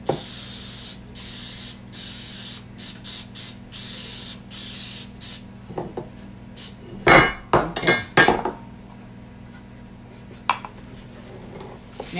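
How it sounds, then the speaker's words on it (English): Vegetable oil cooking spray hisses in a string of short bursts, followed by light clinks and taps of dishes and utensils in a kitchen. "Now I'm going to give it a spray with some vegetable oil."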